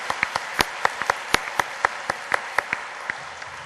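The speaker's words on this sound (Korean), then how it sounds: "특별히 호산나 찬양대 한 해 동안 정말 너무 고생하는데 우리 박수로 격려 박수하도록" Church congregation clapping for the Hosanna choir at a Sunday evening service, a sparse run of distinct, evenly spaced claps, fairly quiet and roughly two to three per second, with no talk over them.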